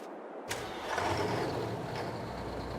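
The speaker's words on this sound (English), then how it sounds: "Might even use this truck. Let's see. This is the one with the new sounds on it." A truck engine in Farming Simulator 22, fitted with new sounds, cranks with a sharp click and catches, then settles into a steady low idle, close and fairly loud with no talk over it.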